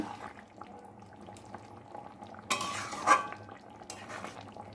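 Jackfruit kofta curry in a cooking pot being lifted off the stove, with a brief clatter of metal and utensils midway through over a low kitchen background; no one speaks.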